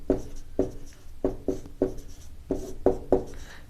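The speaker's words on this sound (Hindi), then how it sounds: "यहां मैं बीच में लाइन खींच देता हूं और इधर लिख देता हूं अनैच्छिक" A teacher writes on a classroom board, chalk or marker tapping and scratching in quick, evenly spaced strokes, about seven or eight distinct close marks with brief pauses between, no talking.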